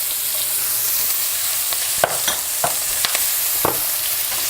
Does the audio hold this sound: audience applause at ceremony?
no